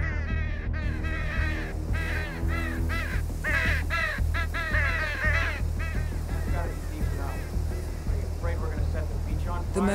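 Crows caw over and over in the game Hitman 2, loud harsh calls piling up throughout against a steady bed of ambient game noise and other bird chatter.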